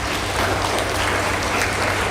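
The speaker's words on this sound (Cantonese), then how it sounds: "我哋都俾掌聲，多謝同學仔。" An audience at a primary school's 65th anniversary thanksgiving ceremony claps for the schoolchildren, giving a loud, dense and continuous round of applause with no talking.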